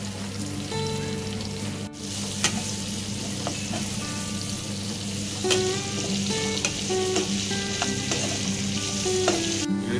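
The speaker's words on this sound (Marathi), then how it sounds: "कोबी शिमला मिरची आणि गाजर फ्राय झालेले" Carrot, capsicum and cabbage stir-fry in a pan, giving a dense, continuous close sizzle with scattered pops and scraping stirs throughout.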